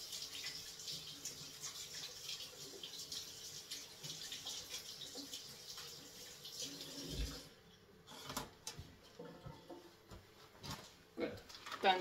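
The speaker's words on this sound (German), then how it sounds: "jetzt waschen wir nur schnell die Hände." Hands are washed under a running kitchen tap while preparing a pumpkin tarte flambée, a steady faint splash of water for several seconds followed by scattered clunks and handling noises, with speech heard at times.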